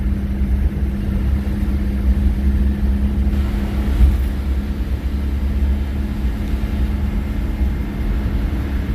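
A scooter-car rolls along at around 36 mph with a steady, close engine rumble and road drone throughout, rising slightly as it picks up speed, with no talking.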